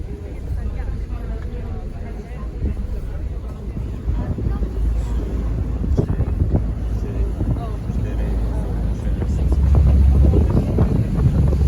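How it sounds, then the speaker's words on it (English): Wind rushes across the deck of a ferry bound for Rangitoto Island, with a steady low engine rumble beneath gusty buffeting that grows stronger toward the end. "On the ferry ride"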